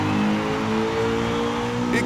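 A 600-horsepower race car engine in Gran Turismo 7 holds a loud, steady high-rev drone for about two seconds as the tires fail to break loose, with faint talk mixed underneath.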